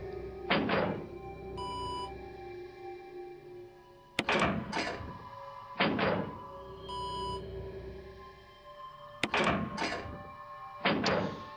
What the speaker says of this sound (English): Levers for releasing the door locks. Pull it.